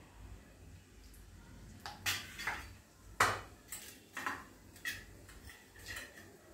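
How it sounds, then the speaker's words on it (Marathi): Mustard seeds, cumin and hing crackle in hot oil for a tempering, scattered sharp pops and ticks spread irregularly over a few seconds, close by with no speech. "फोडणी चांगली तडतडायला लागली आहे"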